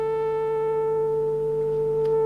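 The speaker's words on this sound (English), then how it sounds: "the actual wave shape that we finish up with is fairly close to the sine wave" A synthesizer holds a steady, smooth tone close to a sine wave. It is loud and alone, with no change over its length.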